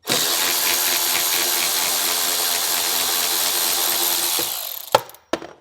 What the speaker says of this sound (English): we remove our 1 bolt from the bottom